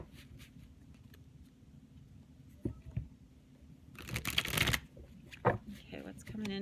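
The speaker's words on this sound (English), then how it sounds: "So let's pull some cards. Let's go to the tarot and see what's coming out about this" Tarot cards being shuffled by hand, a loud riffling burst in the middle with softer card handling before and after, close up against a quiet room.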